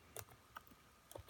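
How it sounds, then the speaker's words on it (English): A computer keyboard typed on during an HTML coding lesson, giving a few sparse, soft key clicks in small clusters. "let's go ahead and get typing here"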